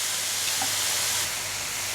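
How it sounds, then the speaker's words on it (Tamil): Ingredients for a mutton curry masala sautéing in a pan, giving a steady, soft sizzle and hiss close by, alone without talk. "இதையும் ஒரு நிமிஷத்துக்கு நல்லா வதக்கி விட்டுடுங்க."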